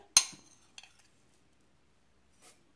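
A spoon clinks sharply once against a container while Marseille soap flakes are added, followed by a softer tap and faint scraping in a quiet room.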